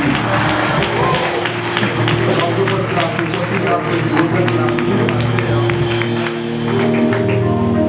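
A church congregation at a 30th anniversary service applauds, sustained rhythmic clapping layered over loud music and singing voices throughout.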